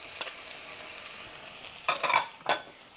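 Chopped onion and roasted red pepper go into a hot soup pot, giving a low steady sizzle with a few sharp clinks and scraping stirs near the end.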